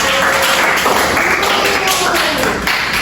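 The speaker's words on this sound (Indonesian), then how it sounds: "Beri tepuk tangan dulu pada Ahmad" Students in a microteaching classroom clap for a classmate, a loud, steady patter of many hands mixed with voices and a constant background hum, continuing without pause.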